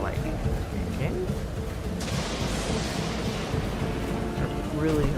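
Rain and thunder from a storm in a raft survival video game: a dense downpour hiss with a loud thunderclap swelling around the middle, continuous and close, with a voice talking over it.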